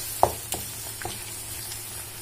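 A mango and ginger thokku cooks in separating oil while being mixed, a soft even sizzle with a few short knocks and scrapes of a spoon in the pan, close and unaccompanied by talk.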